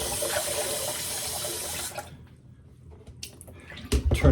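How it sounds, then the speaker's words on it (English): Water is poured off and swirled in a quick rinse at a countertop sink, a close, steady splashing rush for about two seconds, then quiet trickles and a final splash at the end. "pour off the water, do a quick little rinse,"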